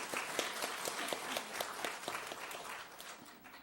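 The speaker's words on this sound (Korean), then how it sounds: "수고하신 시온 성가들에게 다시 한번 박수 부탁드립니다" A church congregation applauds the choir after a Sunday service hymn, many distinct hand claps forming a moderate, fairly close round of clapping that slowly eases.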